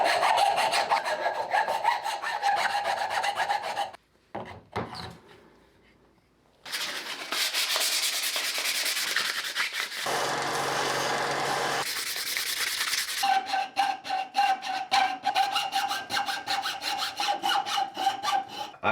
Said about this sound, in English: I need to do a little bit more sanding